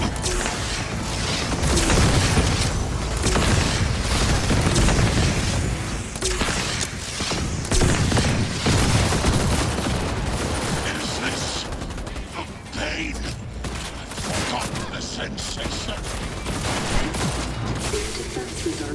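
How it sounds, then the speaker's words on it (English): Rapid gunfire and bursts of shots fill a Cyberpunk 2077 firefight, dense and loud throughout with mechanical clatter layered in, continuing for most of the stretch with brief dips in intensity. "I just killed you with Mox's gun"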